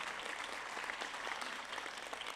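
An audience at a hospital resident award and graduation ceremony breaks into dense, continuous applause that carries evenly from start to finish.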